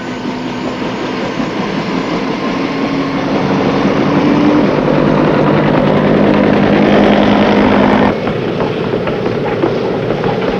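Loud US Army military helicopter rotors throb and whine in a continuous mechanical roar, shifting in tone near the end, with no talking; 1967 Vietnam War footage.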